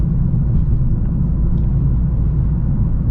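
Steady low engine rumble from a 2025 Toyota GR Corolla while driving, a constant near drone throughout with no talk.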